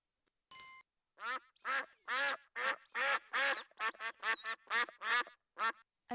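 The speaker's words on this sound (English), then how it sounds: "duck is a type of water bird with webbed feet and a flat bill." Cartoon duck quacking in the My First Incredible Amazing Dictionary video game: about a dozen loud, clear, nasal quacks in an uneven run, preceded by a short electronic tone.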